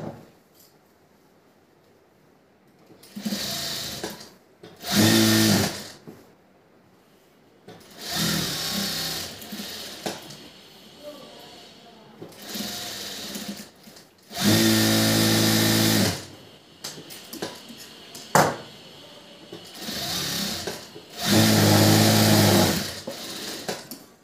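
A sewing machine stitches a blouse fitting seam in several separate bursts of fast, whirring runs, some longer and louder than others, with quiet handling pauses in between, close and alone.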